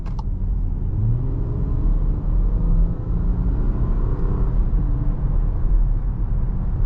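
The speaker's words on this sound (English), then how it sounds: "this is just such a great sounding motor" A powerful engine in a 2022 VW Atlas Cross Sport SUV drones and rumbles under load, a deep continuous roar that swells slightly as the throttle holds.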